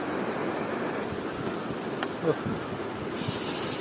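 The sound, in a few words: mountain river flowing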